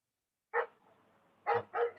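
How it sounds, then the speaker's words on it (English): Dogs at home give a single sharp bark, then two quick barks after a pause, fairly close and clear against a quiet background. "Can you hear my dogs?"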